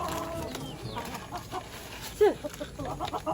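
Chickens cluck and squawk at close range while being fed, with short bursts of fowl calls over a busy farmyard background and some faint human voices.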